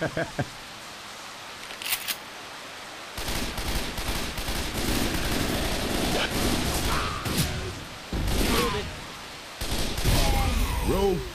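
Bursts of gunfire in the zombie shooter Left 4 Dead 2, a few sharp early shots followed by long sustained volleys broken by brief pauses, loud and close amid game noise, with people talking.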